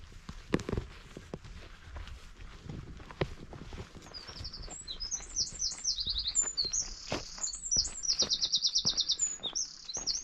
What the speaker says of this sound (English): Nice bit of bird song there.